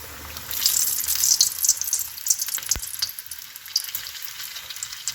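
Batter-dipped green chillies for chilli bajji frying in hot oil in a pan, making a steady, fairly loud bubbling sizzle with crisp crackles and one sharp clink partway through.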